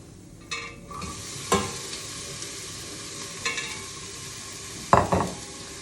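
Onions sautéing in a pot, a low steady sizzle broken by several sharp clinks and scrapes of a spoon stirring against the metal, close with no talk.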